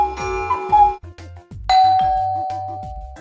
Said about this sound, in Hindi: यह आखिरी वाली आवाज है बेल की।